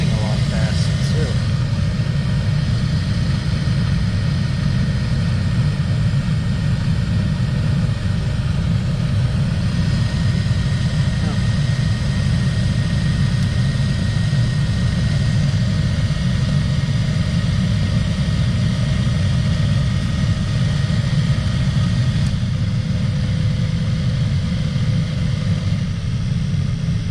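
A new replacement blower motor in a Chevy Tahoe spins fast, giving a steady, continuous whir over a low rumble for the whole stretch, loud and close with faint tonal hums and no pause.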